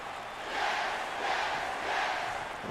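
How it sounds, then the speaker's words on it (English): An arena crowd in a WWE 2K wrestling game cheering and chanting, a broad, steady roar that swells in waves and stays loud throughout with no commentary over it. "Bryan rallying the crowd behind himself"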